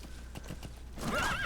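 A horse in Metal Gear Solid V clip-clops with quick hoofbeats, then lets out a loud, close whinnying neigh.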